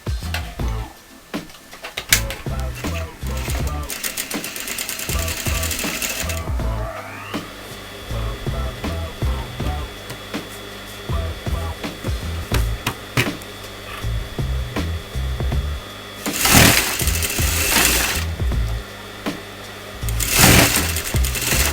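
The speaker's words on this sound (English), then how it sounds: "you're going to sew towards the top." A sewing machine stitches fabric with a steady, fast mechanical whir and rattle, running close and loud in long bursts with brief pauses and changes in speed.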